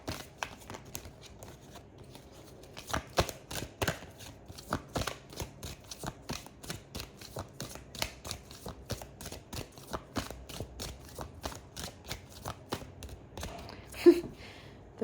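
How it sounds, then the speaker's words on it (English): A deck of cards shuffled at a tarot-style reading, a series of crisp riffling flicks and taps in uneven bursts, close and fairly quiet with no talking. "That was an interesting shuffle."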